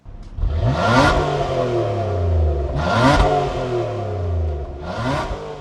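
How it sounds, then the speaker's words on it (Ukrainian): A Nissan car with a dual-outlet sport exhaust revs up sharply three times, each rise and fall roaring through the exhaust, loud and close with no voices. "двохствольний спортивний вихлоп. Ось так він, до речі, звучить."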